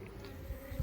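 A calm swarm of honeybees, clustered in a mass beneath a box, gives off a faint, even, continuous hum with a few slightly louder low thumps near the end.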